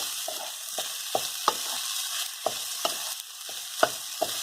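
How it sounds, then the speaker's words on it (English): Rice being stir-fried in a pan for local-style Hawaiian fried rice, a constant close sizzle broken by sharp spatula scrapes and taps against the pan about every half second, with no talking. "Just stir fry. Because I'm trying to dry the rice."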